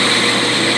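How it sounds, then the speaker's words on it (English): A power drill fitted with a sharp bit bores into metal while a plasma cutter table gantry is being built, giving a steady, loud, continuous high whine with no pauses. "Ease its way in. Good sharp drill bit."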